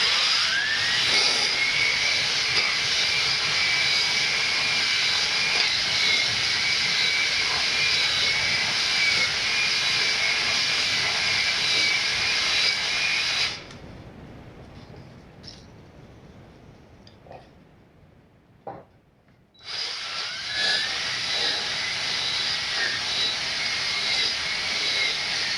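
A drill-driven hone spins inside an engine cylinder with a steady, loud, high whirring grind. It drops to a quieter, rougher scrape for several seconds, then returns to the full steady whine.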